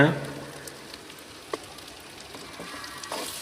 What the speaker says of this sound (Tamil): மேலாப்பில் கடலெண்ணெய் கொஞ்சம் ஊற்றி நல்லா வதங்க விட்டுறலாங்க கூடவே தேங்காயை துருவி போட்டுக்கலாங்க